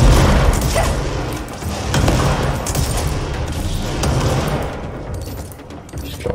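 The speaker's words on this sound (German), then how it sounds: "ein Scharfschütze" Loud sniper gunfire and heavy booms in the video game Control, a dense barrage up front that eases and thins out toward the end.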